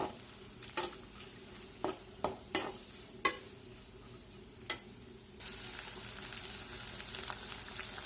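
Green chillies for pickle are stirred in a hot pan with a spoon, giving a run of separate scraping knocks over a steady sizzle that turns into a louder, denser frying hiss partway through.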